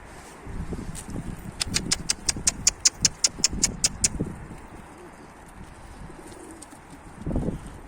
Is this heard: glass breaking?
no